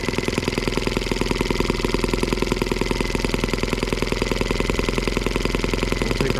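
An M12B engine, freshly reassembled with new main bearings, runs steadily nearby in a fast, even, mechanical chugging rhythm that stays loud and unchanged throughout.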